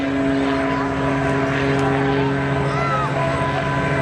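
A loud, steady engine roar with strong droning tones from a three-jet-engine Peterbilt semi truck running nearby at an air show, holding constant throughout.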